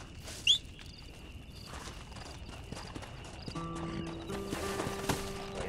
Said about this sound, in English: Lo tenemos al caballo.